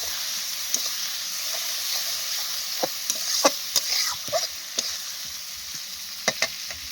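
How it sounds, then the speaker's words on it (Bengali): Spice paste for a kohlrabi curry stir-fries in a pan with a splash of water, a steady soft sizzle and hiss overlaid with scattered sharp scrapes and taps of a spatula, up close. "জল দিয়ে ভালো করে মশলাটা আরেকটু কষিয়ে নেব।"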